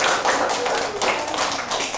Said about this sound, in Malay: sekali bagi tepukan untuk diri sendiri